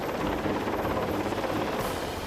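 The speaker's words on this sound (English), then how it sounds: "the helicopter crew manages to lift the men to safety" A helicopter hovers over a rig in high winds while its crew lifts men to safety, a steady loud rotor drone and engine roar filling the scene without pause.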